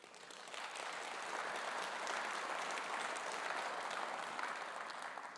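Conference audience at the 2018 Conservative Party Conference applauding, a dense, steady wash of many hands clapping at once that swells in and holds at an even, moderate level throughout.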